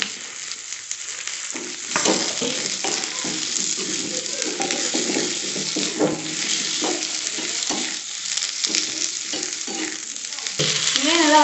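Chili and onion sautéed in a pan, close continuous frying sizzle broken by frequent scraping stirs of a spoon against the pan, fairly loud and without talk.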